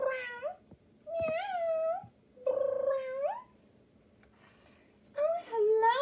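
Voices imitate a cat during a children's storytime, making several drawn-out meows and wailing mews one after another with short pauses between them, fairly close and moderately loud.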